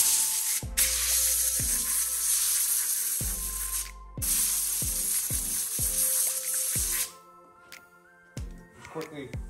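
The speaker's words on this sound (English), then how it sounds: "we're gonna blow it off with compressed air from the inside going up" Compressed air blasting through a chainsaw air filter from the inside, two long loud hissing bursts separated by a brief pause, then a short final puff, with someone talking underneath.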